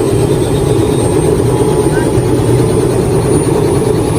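A helicopter on a village school field drones loud and close with a constant, heavy rotor and engine roar, unbroken throughout.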